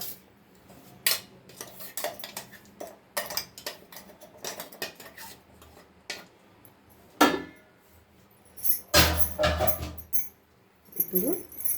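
A spoon scraping and clattering in a pan as ground spice powder is mixed in, irregular bursts of metallic knocks and scrapes with quiet gaps, close up and fairly soft.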